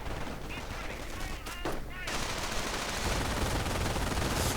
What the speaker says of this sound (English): advancing up the center, getting suppressed by the second MG42